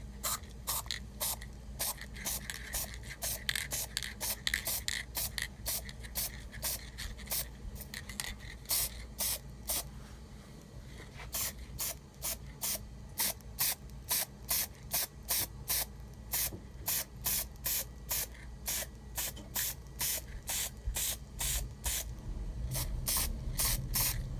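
An aerosol can sprays clear coat onto Jeep Wrangler JK parts in a rapid series of short, even bursts that run steadily throughout, close and moderately loud, with no voices.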